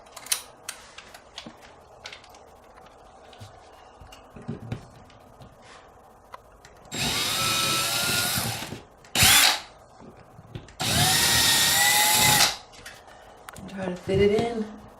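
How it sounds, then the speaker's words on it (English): A power drill bores a hole in a garage wall to mount a storage rail, whirring in three loud bursts, two long and one short, between quieter moments with a voice talking. "then you're going to drill a hole."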